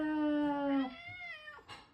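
A talkative cat gives two drawn-out meows up close, the first long and steady, the second rising and then falling. A shorter vocal burst follows at the end, and no one speaks.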